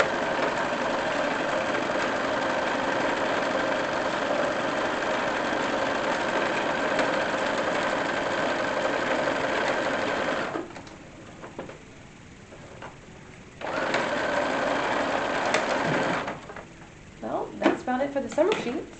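A sewing machine hums steadily, stitching vintage knitted lace onto summer sheets with black thread. The whir runs unbroken for about ten seconds, pauses, then starts again in shorter bursts.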